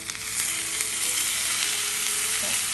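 Curry leaves and green chillies frying in hot oil in a pan, a steady dense sizzle holding evenly throughout, close and alone with no talk.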